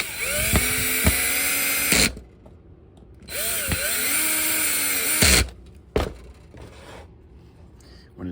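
A power screwdriver drives screws into the catch of a Shellington underbarrel shotgun during assembly, giving two close, loud whirring bursts of about two seconds each, with the motor pitch shifting as each screw seats, separated by quiet pauses.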